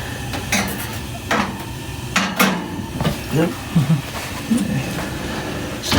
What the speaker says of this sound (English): now time to put the mac and cheese in the oven with hotbed